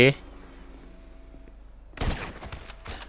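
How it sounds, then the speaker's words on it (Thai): A sudden burst of gunfire in the GTA 5 video game breaks out after a quiet stretch, sharp loud cracks in quick succession, with a voice briefly heard at the start. "ยิงปืนนักเดียวแม่งตายสองคน"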